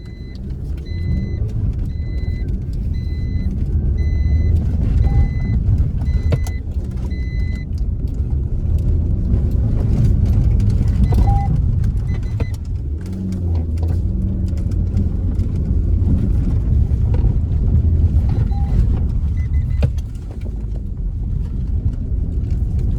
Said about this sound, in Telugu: ఇప్పుడైతే మీకు కంటిన్యూస్ డ్రిఫ్టింగ్ ఎలా ఉంటుంది అయితే మీకు చూపిస్తాను చూడండి